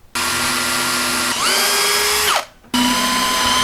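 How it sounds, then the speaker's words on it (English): A small power drill whines loudly, pitch shifting as it bites into wood for a fence, stops briefly, then spins up again. "I'll start with the small drill and work my way up."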